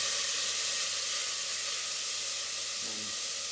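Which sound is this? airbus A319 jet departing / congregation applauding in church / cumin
cumin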